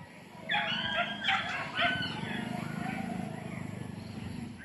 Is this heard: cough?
no